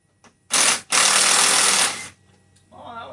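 A small impact gun rattles off a rusty 10 mm bolt during a timing job on a car's front end, two loud close bursts with a brief gap between them, followed by faint quieter sounds.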